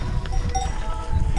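Cows on a pilgrimage trail, heard with metallic cowbells clanking and ringing irregularly over a low rumbling background, close and fairly loud for a brief moment, with no talk.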